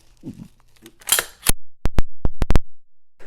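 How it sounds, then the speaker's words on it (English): Flip-up iron sights on an Aero Precision M4E1 rifle snap into place with a handful of sharp, distinct metallic clicks, close and crisp after some brief handling rustle. "I gotta pop up my sights real quick."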